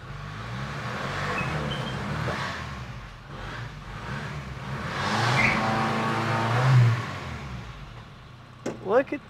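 Manual five-speed swapped old Toyota Hilux revving and spinning a tire in a burnout attempt, a rough engine roar rising and falling nearby, with people talking over it.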